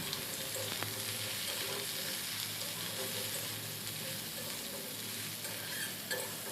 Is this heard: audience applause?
no